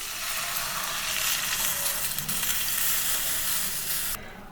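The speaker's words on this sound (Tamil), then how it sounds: "கேரட் வந்து நெய்யில் நல்லா வதங்கிடுச்சுங்க" Grated carrots sautéing in ghee in a pan for carrot payasam, a dense steady hiss and sizzle close up, cutting off abruptly near the end.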